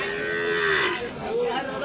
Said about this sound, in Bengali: বকনা গরু